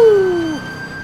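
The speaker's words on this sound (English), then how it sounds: "We're gonna have to go lights and sirens here." A police siren wail in the video game GTA 5 sweeps downward and fades over a steady electronic hum, sounding synthetic and clean.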